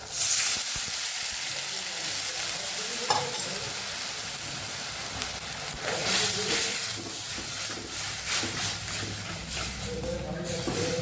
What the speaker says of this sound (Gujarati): લસણવાળી ચટણી અને બધા મસાલા મિક્સ કરેલા છે એનો આપણે વઘાર કરી લઈશું